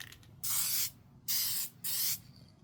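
Three short, loud bursts of Duplicolor aerosol spray paint hiss close up, each about half a second, separated by brief pauses.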